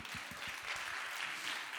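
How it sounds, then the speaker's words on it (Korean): A young adult church congregation applauds briefly during a sermon, a soft, fairly distant patter of clapping hands that lasts under two seconds with no talk over it. "박수."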